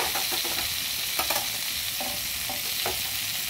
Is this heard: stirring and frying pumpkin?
yes